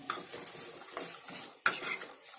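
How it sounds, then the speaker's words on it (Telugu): A metal lid clanks onto a cooking pot of frying onions and peas for samosa filling, preceded by light utensil clinks and a soft sizzle underneath. "నేను మూత పెడతాను."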